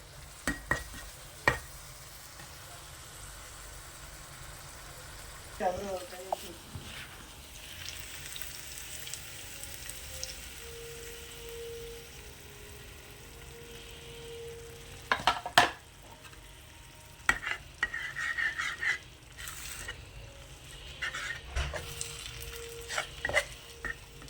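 Egg masala is stirred in a frying pan with pepper, turmeric and chili powder, a soft, steady sizzle punctuated by occasional scrapes and clinks of a utensil against the pan.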